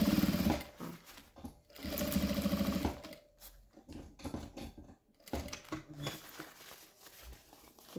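Sewing machine stitching lining and main fabric together, fast rattling bursts of stitching separated by short pauses and softer handling sounds.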